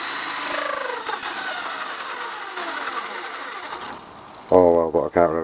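A small nitro engine on an HSP/Redcat/Exceed RC monster truck, fitted with a metal spur gear, hums and whines with rising pitch, then gives a few louder buzzing revs near the end while someone talks.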